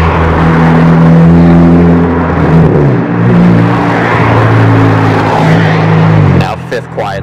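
A loud MK6 Volkswagen Jetta GLI engine drones steadily with deep exhaust rumble and a rising turbo whine, ending with a brief hiss as the engine note drops.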